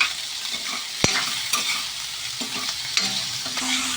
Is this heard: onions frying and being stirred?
yes